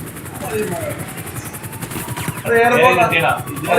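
Rapid gunfire and cannon blasts at a military base in GTA 5 rattle continuously, growing louder and denser toward the end, with a helicopter-like drone under it and someone talking over it.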